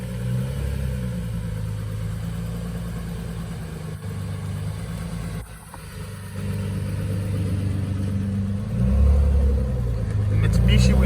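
A Nissan Z32 sports car rumbles closer with a low, steady engine note that swells louder toward the end, while people nearby chat outdoors.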